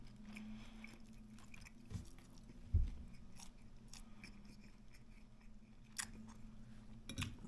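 Chewing on crunchy garlic-roasted turkey tenderloin with a crisp outer skin, giving soft close-up mouth crunches and bites at an uneven pace, with one sharper bite near the middle, over a low steady background hum.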